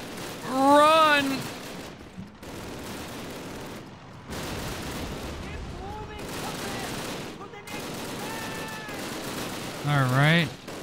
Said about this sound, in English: They pulled out the MG42s for this shit.